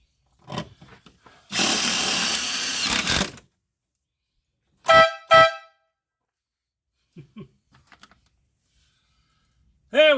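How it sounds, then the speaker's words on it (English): Two short, loud blasts of an air horn on a hunting buggy, preceded by a burst of hissing and rattling, with a voice speaking briefly in between. "We have a functioning air horn in the buggy."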